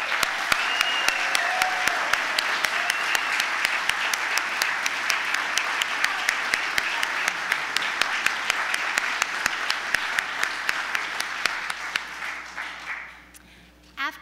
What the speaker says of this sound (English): Please join me as we applaud their contributions as a whole one more time